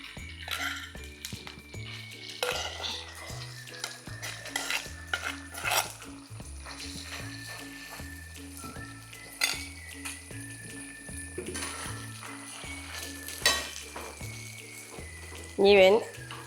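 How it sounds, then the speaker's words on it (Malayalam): Beef frying in hot coconut oil in a pan, cooked for a beef pickle, crackles and sizzles while a utensil scrapes and clinks against the pan in irregular bursts, all under steady background music. "ഞാൻ ഇതിൽ ബീഫ് ഇടാൻ പോവാണ്."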